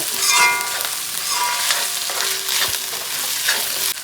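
Two green chilies fry in a beef curry, giving a loud, steady sizzle with stirring scrapes and brief clinks close by.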